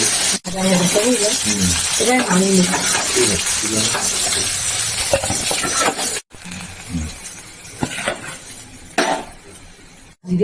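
Dry chilli, raw tomato, aubergine and potato sizzle in hot oil in a pan, with clinks of a utensil against the pan and a voice talking over it.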